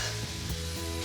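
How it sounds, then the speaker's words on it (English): Mushrooms sizzle and spit in a hot pan, a close, steady frying hiss with a low hum underneath, brief and continuous. "I'm just going to give these mushrooms a bit more heat"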